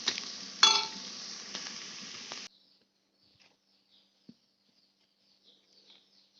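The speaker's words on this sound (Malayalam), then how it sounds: "അതിനുശേഷം അതിനൊന്ന് നന്നായിട്ടൊന്ന് ഇളക്കി യോജിപ്പിച്ച് കൊടുക്കണം" A cabbage, onion and green chilli mix is stirred in a pan, giving a soft sizzle with scraping and a sharper clatter near the start. After a few seconds it drops to near silence with faint ticks.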